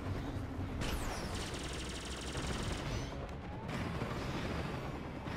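Rapid bursts of Star Fox Zero gunfire mixed with electronic zaps and sweeping tones, fairly dense and continuous.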